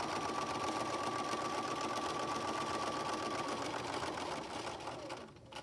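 Sewing machine stitching a straight seam down a length of fabric, a fast, even mechanical whir with a faint whine that runs steadily, then slows and stops at the end.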